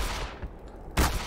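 Gunfire from the video game Black Mesa comes as a dense burst of shots that fades, then another loud blast near the end, packed into just over a second with no talk.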